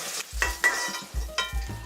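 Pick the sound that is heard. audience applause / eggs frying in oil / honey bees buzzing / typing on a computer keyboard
eggs frying in oil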